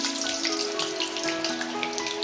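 Finely chopped potatoes fry in oil in a pan for an omelette, giving a continuous close crackling sizzle with scattered pops and spits and no talking.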